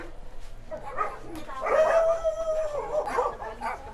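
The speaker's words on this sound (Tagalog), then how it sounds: "Aso niyo, Vilma?" A dog barks and whimpers nearby, with a drawn-out whine in the middle, while people talk over it.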